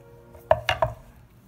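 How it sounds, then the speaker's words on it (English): A knife chops okra (lady fingers) finely on a board, landing three quick, sharp knocks in succession with quiet pauses around them. "Just chop the okra or the lady fingers as fine as possible"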